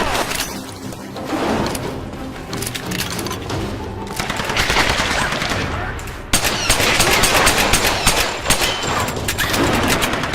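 Repeated gunfire bursts and cracks from the 2013 video game Tomb Raider, rattling continuously across the whole stretch with a sharp jump in intensity partway through, as voices shout underneath.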